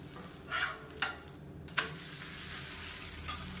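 A millet masala adai sizzles on a hot pan just after being flipped, a steady close frying hiss broken by a few sharp clicks of the spatula.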